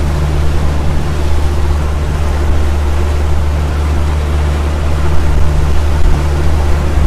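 A boat engine drones steadily on open water, joined by wind and wash, close and loud throughout with no speech.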